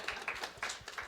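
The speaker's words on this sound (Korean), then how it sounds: "우리 한번 박수 한번 쳐줍시다." Hands clapping among a church congregation during a Friday healing prayer service, a quick string of claps in an uneven beat, fairly faint and a little distant, with no voices over it.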